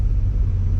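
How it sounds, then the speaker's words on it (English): A twin-turbo Nissan 300ZX engine idles at about 600 RPM with a deep, steady low rumble, loud and close, no voices, a brief continuous drone. "Nope, that's actually idling good. It's staying about 600 RPM"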